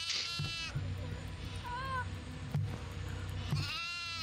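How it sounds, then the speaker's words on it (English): Goats bleating inside a video game, a few short wavering calls standing out over a steady hum of game sound and background noise, with a person talking over them. "Oh, look, two goats."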